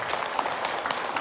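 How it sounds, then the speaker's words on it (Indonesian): Studio audience applause for a guest preacher arriving on a Ramadan religious talk show, a dense, steady patter of many hands filling the short moment without speech. "tepuk tangan untuk Ustadz Munawir"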